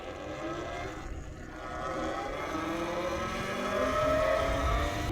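A 2023 Talaria Sting electric dirt bike rides off-road, giving a steady, fairly loud whir and wind rush with a rising whine in the last seconds, and no voices.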